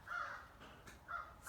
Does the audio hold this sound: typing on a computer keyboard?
no